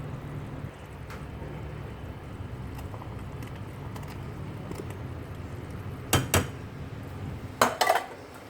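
Okra dropped and stirred into a pot of boiling sothi, with a low steady bubbling simmer and a few sharp metallic clinks of a spoon against the pot near the end.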